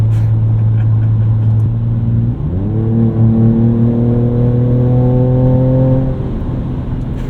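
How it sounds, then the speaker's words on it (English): 2024 Ford Ranger Raptor exhaust in Baja mode, idling low before a sharp rev climbs and holds at a higher steady pitch for a few seconds, then drops back, loud and close. "we'll try the exhaust tip here. Normal, sport, Baja. Baja's the loudest."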